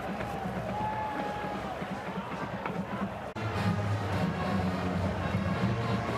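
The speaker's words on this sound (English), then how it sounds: "This Coliseum crowd is digging the resolve of the USC Trojans." A large stadium crowd at the Coliseum during a rainy USC Trojans versus Iowa Hawkeyes college football game, a steady roar of many voices that continues throughout and swells slightly after a brief dip midway.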